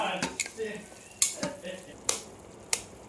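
Beaten eggs being stirred into amaranth greens frying with crushed garlic and green chillies in a pan, a steady sizzle broken by several sharp scrapes and knocks of the spoon against the pan.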